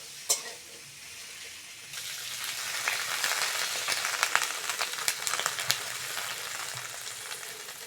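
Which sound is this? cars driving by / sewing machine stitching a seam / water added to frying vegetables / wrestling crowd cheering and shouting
water added to frying vegetables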